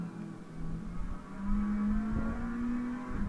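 A big, heavy Mustang GT3 race car accelerating through the Mount Panorama circuit at Bathurst in a racing video game, its engine a steady low drone rising slowly in pitch, close and continuous.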